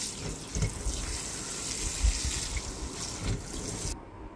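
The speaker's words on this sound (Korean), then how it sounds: "팽이를 물에 헹궈서 물기를 제거해줍니다." Enoki mushrooms are rinsed under a running kitchen tap, with a steady, close splashing stream of water that shifts slightly as the mushrooms move, then stops abruptly at the end.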